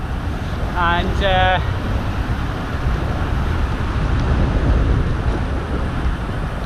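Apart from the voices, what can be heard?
wind blowing while cycling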